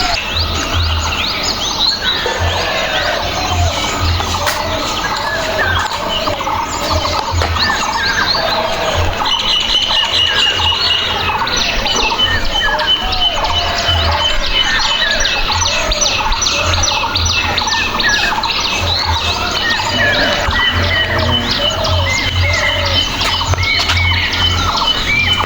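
Dense, continuous chirping and twittering from a large flock of birds, steady and fairly loud throughout with no one speaking.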